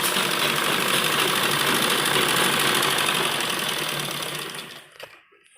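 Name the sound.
sewing machine stitching a kurta sleeve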